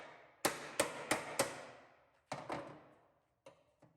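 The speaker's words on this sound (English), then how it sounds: "Punch the rivet out." Hammer blows punching a rivet out of a Mustang deck lid trunk lock: four sharp metallic strikes in quick succession, a pause, then two more and a couple of lighter taps, close and loud.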